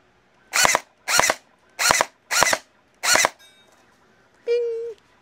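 A Dekai SCAR-L toy gel blaster fires five sharp, evenly spaced snapping shots close to the microphone, followed by a brief electronic beep tone.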